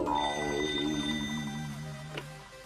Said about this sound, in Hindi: अब मैं उसे फोन कर पूछता हूँ।